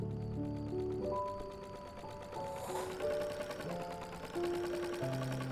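A sewing machine in the video game Mineko's Night Market runs steadily with a mechanical whirring chatter under layered sustained music tones. The sound is continuous and close.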